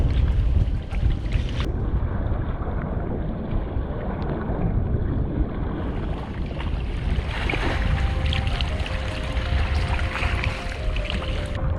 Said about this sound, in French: Beaucoup de bateaux de touristes le traversent et créent de l'agitation dans l'eau.